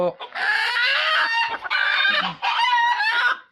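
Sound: chicken clucking on a poultry farm

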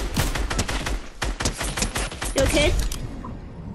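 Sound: gunshots from the video game Fortnite

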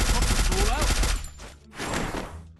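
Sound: gunfire from the video game Free Fire

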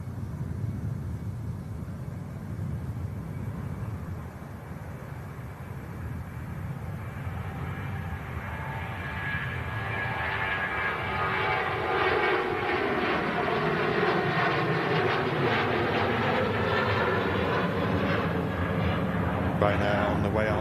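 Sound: Boeing 737 aircraft at Manchester Airport

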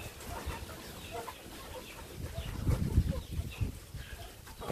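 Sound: free-range chickens clucking while eating pomelo

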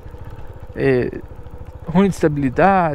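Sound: TVS Sport motorcycle from Mottu rental, engine running

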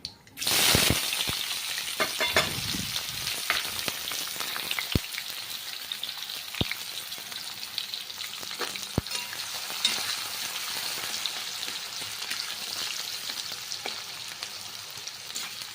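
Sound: onion and chili frying with mustard seeds for upma

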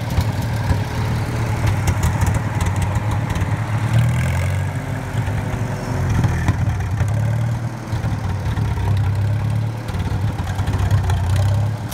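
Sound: old tractor engine idling

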